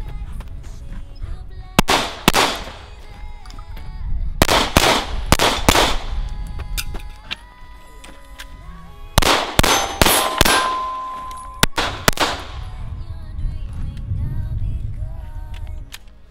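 Gunshots ringing off steel targets at a shooting range, sharp reports in quick clusters each followed by bright metallic clangs and pings, loud and close with pauses between strings of shots.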